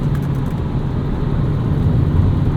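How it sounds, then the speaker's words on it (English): A 1997 Volvo 850 R five-cylinder engine pulls under turbo boost, a loud, steady low drone and hum heard from inside the car, with no talking. "Oh yes, there we are, getting into some boost. Letting that sweet 5-cylinder sing."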